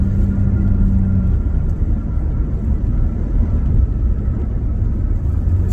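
Custom equal-length exhaust on a 2024 Nissan Frontier pickup roars steadily under hard acceleration on a highway, a loud, continuous low rumble heard from inside the cab.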